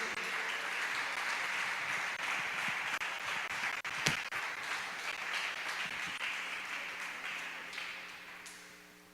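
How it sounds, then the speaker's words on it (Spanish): Congregation applause fills a church service, a steady wash of many hands clapping at moderate distance, holding for several seconds before slowly tapering off, with no talking over it. "Den un aplauso al Señor Jesucristo."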